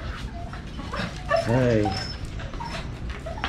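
A farm dog in a rooftop vegetable garden yips and whimpers in a short burst of excited bow-wows mid-clip, close by, with a person talking over it.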